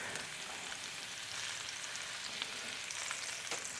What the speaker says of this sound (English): it's getting a nice little bit of a sear on it